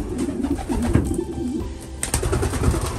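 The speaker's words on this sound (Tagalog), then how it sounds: "Ayun mga kalapatid, sobrang excited nila sa paso." Breeder pigeons cooing close by in a loft, soft repeated low throaty coos in overlapping bursts with some rustling and a sharp knock partway through.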